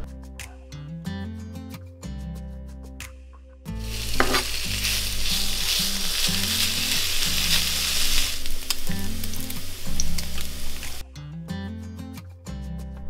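Bacon pieces fry in a pan with a loud, dense crackling sizzle that carries on for several seconds. Background music plays before and after it, and the sizzle stays close and steady.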